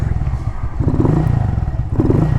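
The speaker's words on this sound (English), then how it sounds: "I love this bike." Motorcycle engine running with a low rumbling throttle and uneven revving, steady and close throughout.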